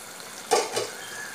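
Vegetables cook for veg kurma in an open pot: a quiet simmer is broken by two quick, close stirring scrapes with a brief sizzle, about a quarter second apart.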